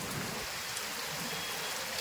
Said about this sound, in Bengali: দেখো সকাল 8টা থেকে বৃষ্টি চলছে এখন পর্যন্ত।